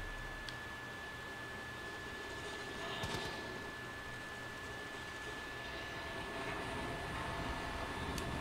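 A plane's engine drones steadily in Far Cry 5, a continuous broadband roar with a faint whine running throughout.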